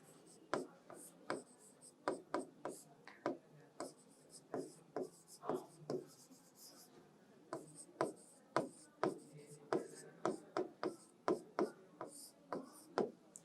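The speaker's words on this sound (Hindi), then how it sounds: "मैं लिख देती हूं" Handwriting on a surface during a lesson, heard as a steady series of short scratchy pen strokes in quick bursts, close and clear with no talk over it.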